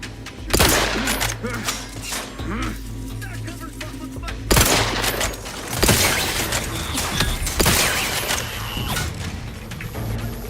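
Heavy gunfire aimed at the player in Outer Worlds 2, sustained loud automatic bursts with sharp cracks and booming impacts throughout, close and dense, with game sounds layered underneath.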